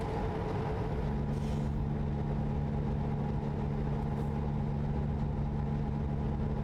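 A heavy truck engine in American Truck Simulator drones at a steady low hum under load, a constant loud rumble with no voices over it.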